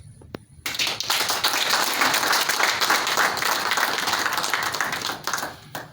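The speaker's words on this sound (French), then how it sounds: "on va faire une standing ovation pour M. Kouyati." A standing ovation for an honoree at an evening ceremony in Fada N'gourma, dense crowd applause that breaks out suddenly and stays loud and steady before tapering near the end.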